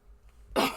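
A single sharp cough bursts out after a quiet moment, close and fairly loud, then trails off quickly.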